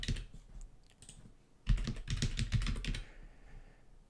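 Keys on a computer keyboard are tapped out in a quick burst while a password is entered, clicks clustering densely in the middle and trailing off, close and fairly loud with no talking.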